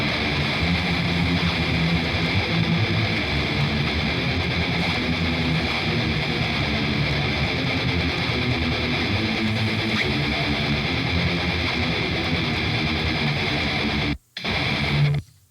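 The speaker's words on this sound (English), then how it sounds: "both guitars together sound like this" Two electric guitars played together through an impulse-response cabinet loader plugin with extreme highs trimmed, a dense, sustained distorted wall of sound throughout that cuts out briefly near the end.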